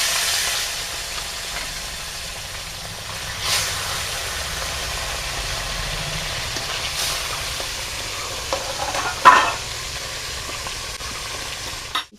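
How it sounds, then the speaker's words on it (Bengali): Fish frying in hot mustard oil in a village kitchen, a steady broad sizzle running throughout with a few louder spits and stirs, fairly close and without any voices. "এবারে মাছটা ভেজে নেবো, দিয়ে দেবো মাছ।"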